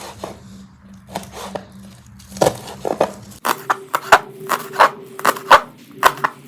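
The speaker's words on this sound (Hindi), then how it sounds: "तो ये प्याज के पत्ते जो हैं कुछ इस तरह बारीक बारीक काट चुके हैं" Green onion leaves are finely chopped with a knife on a board, with steady close rhythmic taps that speed into a quicker, sharper run of cuts.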